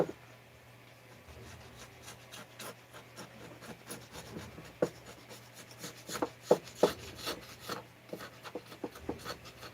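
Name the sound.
scraping Husqvarna 390xp chainsaw crankcase with scraper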